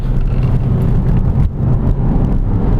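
A 2001 Porsche 996 Carrera engine pulls hard in second gear, a loud, steady, close-up drone that barely lets up apart from a short dip midway.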